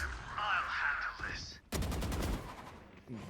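Gunfire in a Valorant esports semifinal match, including an Operator sniper rifle shot, with loud rapid bursts of shots and impacts cutting in sharply midway, preceded by game sounds and heard under crowd and caster noise.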